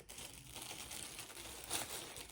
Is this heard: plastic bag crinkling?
yes